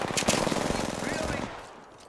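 Rapid automatic gunfire from a battle royale video game rattles in a dense, continuous burst, then cuts off, leaving a quieter tail.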